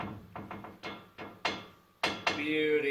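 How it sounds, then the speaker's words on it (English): Hammer blows ring out against a part on an '86 Ford Ranger, a series of sharp metallic strikes with irregular spacing, the later hits louder, followed by a clattering metal rattle. "Yeah, just beat it with a hammer."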